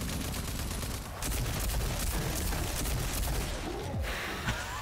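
Shotgun blasts and gunfire in the video game RAGE, a dense, loud, continuous barrage of shots and explosive bursts filling the whole stretch.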